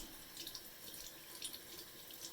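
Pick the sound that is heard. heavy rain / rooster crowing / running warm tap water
running warm tap water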